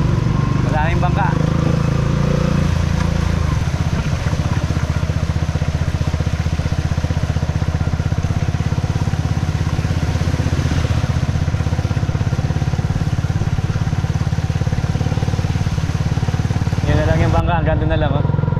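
A steady engine drone runs throughout, like motorcycles and e-bikes idling and passing close by on a road once flooded, with a few faint voices underneath.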